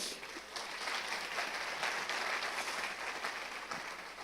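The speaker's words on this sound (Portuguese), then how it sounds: "Você pode dar uma salva de palmas a esse Deus?" Continuous applause from a church congregation during a sermon, a dense wash of clapping that holds steady for several seconds at a moderate, somewhat distant level.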